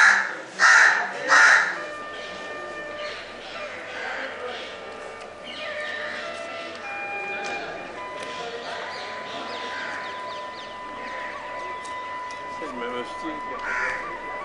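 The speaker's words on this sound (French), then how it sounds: "Ce corbeau n'est pas content." A crow caws loudly and close by in several harsh bursts at the start, then fainter calls continue over a busy outdoor background with people talking, in India.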